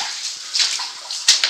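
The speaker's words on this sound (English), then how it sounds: "I'll go back through the freezing cold water again" Freezing cold water sloshes and splashes in uneven surges as someone wades through it near an abandoned mine adit, with a couple of sharper splashes near the end.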